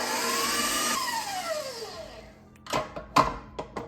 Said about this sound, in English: 3 cups heavy whipping cream, beating at a medium speed until frothy, and then increasing the speed to high until stiff peaks form